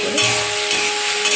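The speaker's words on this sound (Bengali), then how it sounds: "হলুদ, লবণ দিয়ে পেঁয়াজটা একটু সুন্দর করে লাল লাল করে" Onions fry in a pan with turmeric and salt, a loud continuous sizzle broken by the scrape of stirring, heard close with no talk.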